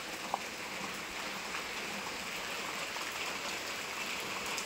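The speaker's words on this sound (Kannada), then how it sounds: "ಗುಡ್ಡೆಯ ನೀರು ಮಾತ್ರ ಅಲ್ಲಿಂದ ಹರಿದು ಈ ಕಡೆಯಾಗಿ ಅಲ್ಲಿಗೆ ಹೋಗ್ತದೆ" Rainwater running off a hill flows past a house yard in monsoon season, a faint steady wash of moving water with light rain patter and a single small knock near the start.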